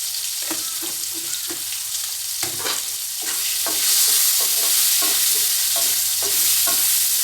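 Potatoes fry in a pan over a gas flame, with a continuous sizzle and a series of clanking stirs at irregular intervals; the sizzle swells louder partway through as the heat comes up.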